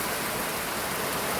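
Steady, dense rain pours down outdoors, a constant broadband hiss with no breaks, loud and close throughout with no talking.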